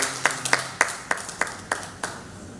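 Scattered handclaps from an audience at a university faculty's leadership handover ceremony: about eight distinct, sharp claps in an uneven rhythm, fairly close and fading slightly, with no talking.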